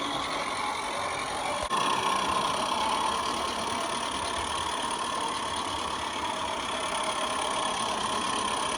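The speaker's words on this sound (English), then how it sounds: "Marge, they're breaking in the engine by running it backwards" A Regner Lumber Jack live steam locomotive runs in reverse while its engine is being broken in, giving a steady, even mechanical hiss and chuff with a brief click near the start.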